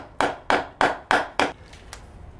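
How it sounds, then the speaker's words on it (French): Five sharp, evenly spaced mallet blows tap a seal into a car gearbox, loud and close. Two fainter knocks follow, with no talking. "Là, je vois que mon maillet, il fait la bonne taille. Et on l'enfonce tout doucement."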